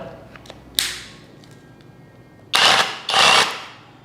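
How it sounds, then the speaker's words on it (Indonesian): Rotary hammer drill set to drill-and-impact mode, running in two loud bursts of about half a second each near the end, after a brief click, with a quiet hum between. "Sekarang kita mau tes untuk yang bor sekaligus hammernya yang ada impact-nya"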